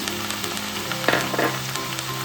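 Onion, tamarind and two green chillies fry in a pan for a drumstick-leaf chutney, giving a loud, steady sizzle with brief stirring scrapes up close.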